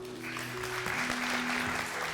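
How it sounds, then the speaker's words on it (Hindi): Brief studio audience applause on a Ramazan television debate show welcoming a guest, a short, moderately faint burst of clapping with a sustained tone beneath. "अहमद सिद्दीक साहब के लिए तालियां।"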